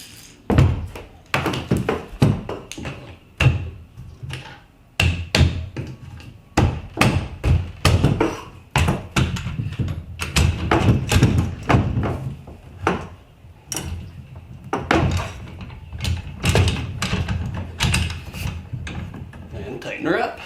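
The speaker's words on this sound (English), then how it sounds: "you can slide your motor in" A Minn Kota trolling motor slides into a pod mount on a 2020 Bonafide SS127 kayak, giving repeated hard knocks and thunks in an irregular rhythm, with a voice talking in between.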